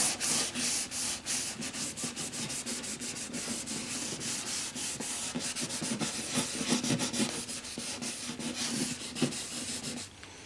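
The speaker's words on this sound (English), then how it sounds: "probably rub it with some steel wool" Steel wool rubbing over a shellac finish on a Harmony H1205 guitar, a steady close scratchy swishing that runs continuously with rhythmic back-and-forth strokes and no talk.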